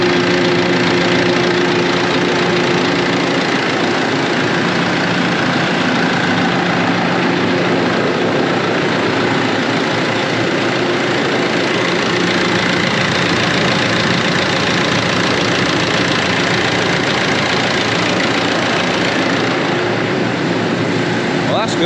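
Diesel engine idling steadily after a fuel filter change, a loud continuous rumble with faint knocking texture holding evenly throughout, with a voice briefly audible over it.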